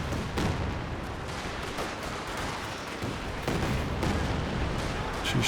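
A Katyusha rocket artillery barrage in Company of Heroes 2 brings a dense, continuous wash of impacts and explosions, with rapid overlapping bangs and rumble that stay steady, without a voice.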